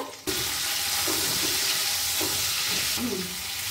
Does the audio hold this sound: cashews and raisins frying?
yes